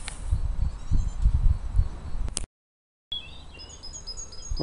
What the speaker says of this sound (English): Strange noise bird, isn't it?